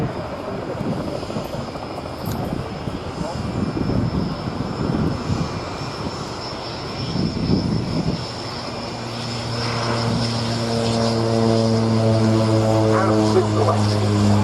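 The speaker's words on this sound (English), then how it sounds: "the now quite rare sound accompanying it of the Rolls-Royce Dart turboprop engine" A Rolls-Royce Dart turboprop engine on a Breguet 1050 Alizé aircraft drones loudly and steadily, its whine rising into sustained tonal harmonics as the engine spools up and holds.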